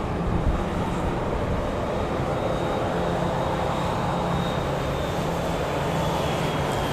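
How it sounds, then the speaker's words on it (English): Beechcraft King Air 250 turboprop passing at Dallas Love Field, a steady broadband engine drone held at even loudness for several seconds, moderately close with no talk over it. "Beach King Air 250 going to College Station."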